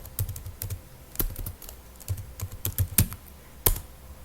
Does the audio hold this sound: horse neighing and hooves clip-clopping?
no